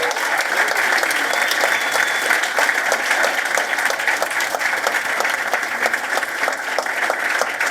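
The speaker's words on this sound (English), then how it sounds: "So let's have a round of applause for these." Dense, sustained audience applause at an alumni achievement awards ceremony, a large crowd clapping steadily and loudly without a break, a full wash of hands with no pauses.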